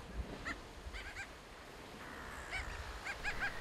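A brown booby gives a series of honking, goose-like calls in short bursts on a Vietnamese island, moderately close against a faint wash of background noise.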